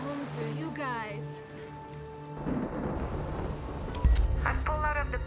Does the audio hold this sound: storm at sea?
yes